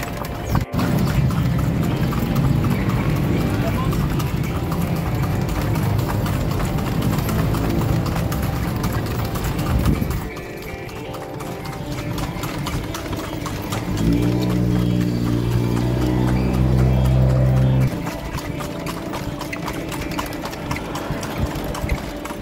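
Horse-drawn kalesa on the streets of Vigan, Ilocos Sur, with steady hoof clip-clops over a constant engine and traffic hum, the rhythm strengthening midway before easing off.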